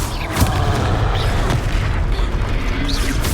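A Confringo fire spell explosion in Hogwarts Legacy, a deep, continuous booming roar with crackling bursts, sustained at loud level throughout with no talk.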